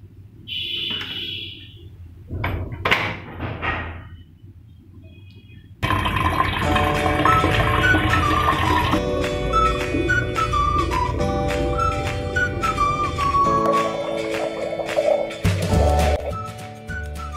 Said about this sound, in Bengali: এখন আমি সব বোতলগুলোতে জল ভরে ফেলছি